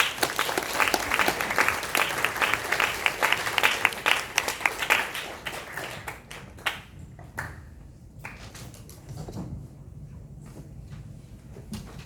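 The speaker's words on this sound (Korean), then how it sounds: "황미숙 연구위원께 큰 박수를 부탁드리겠습니다." Audience applause at an academic conference in Gongju honoring missionaries, given to a researcher from a history institute about to present. Dense sustained clapping for about six seconds, then fading into scattered claps and room noise.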